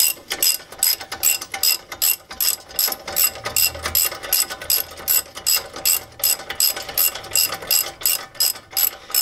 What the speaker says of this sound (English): thread them evenly going back and forth and then just torque it down to 98 foot-pounds